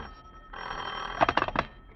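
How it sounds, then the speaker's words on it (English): A telephone rings in a radio drama living-room scene: a soft hum, then a loud burst of rapid bell trills near the end, fairly close and heard alone. "when the phone rings."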